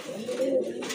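Pigeons kept for sale at a pigeon market cooing close by, a steady low warbling coo with soft background murmur and no speech.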